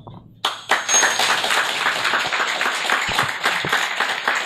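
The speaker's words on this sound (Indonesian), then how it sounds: "Anda tepuk tangan apa?" A seminar audience at a positive-affirmation talk breaks into applause that starts abruptly and holds as a dense, steady clatter of clapping hands.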